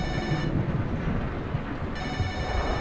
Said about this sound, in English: Telephone rings.